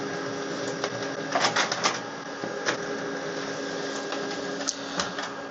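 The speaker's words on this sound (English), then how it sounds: "Now release the copy button and the printer will print some data for you." An HP LaserJet Pro MFP M28w laser printer runs off an information page, a steady mechanical hum with a faint whine and several sharp clicks and paper-feed bursts up close.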